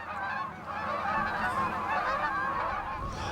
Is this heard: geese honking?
yes